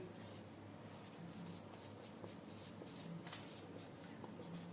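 A teacher writes a linear equation on a board, the marker or chalk giving short scratchy strokes in quick bursts, quiet and close against a faint room hum.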